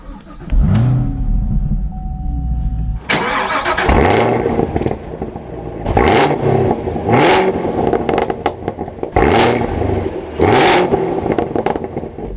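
A car with a 6-speed manual gearbox cranks and catches, then its engine is revved repeatedly in several strong, evenly spaced bursts that fall back toward idle between each rev, loud and close with no talking.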